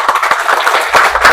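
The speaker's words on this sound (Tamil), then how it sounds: "நல்லா கைத்தட்டு எல்லாருமே" A group of children clapping their hands together, giving a loud, dense burst of uneven claps that carries on throughout.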